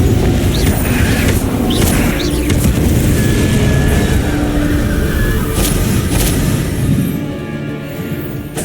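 A Confringo explosive spell blasts in Hogwarts Legacy, giving a loud, dense booming burst with crackling debris that rumbles on for several seconds before easing off near the end.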